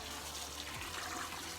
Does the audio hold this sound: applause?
no